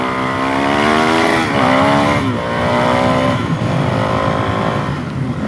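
Suzuki DRZ 470 big bore stroker dirt bike engine, loud and close, running steadily with rising and falling revs and a harmonic buzzing drone throughout, without any talk.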